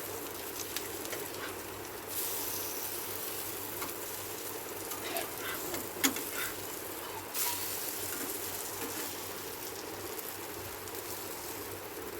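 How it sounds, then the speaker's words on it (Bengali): Fish roe chops frying in a pan as they are turned over, a quiet, steady sizzle with a few faint clicks and pan knocks throughout, no voices. "ভাজা হয়ে গেছে এক পিঠ এবার উল্টে দিচ্ছি সবগুলো আমি উল্টে পেল্টে ভেজে নেবো"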